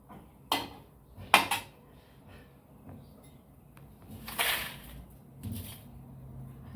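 A metal spoon clinks and scrapes against a wok as fried grated boiled potato is scooped out, giving a few sharp separate knocks over a quiet background.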